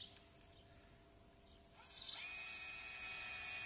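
A cordless screwdriver drives a large 3–4 mm screw into a Mavic tubeless tyre. After a quiet start, a sudden high-pitched motor whine starts and holds steady and close until the end.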